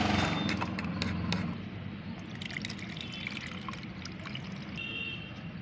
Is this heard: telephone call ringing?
no